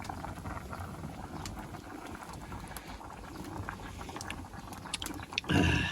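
Sour stew with fresh kamias at a hard rolling boil, a dense steady bubbling and liquid patter close by, with a louder splashy burst near the end.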